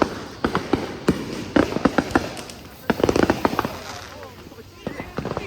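Fireworks and firecrackers bursting during a backyard Fourth of July firework fight, a rapid irregular string of loud sharp bangs and pops, some clustered in quick volleys, with people talking and shouting between blasts.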